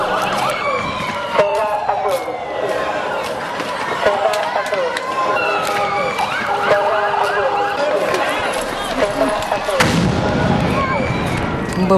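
A Tzeva Adom civil defense rocket warning siren in Israel wails through a busy, cluttered scene, mixed with voices and movement across the whole stretch.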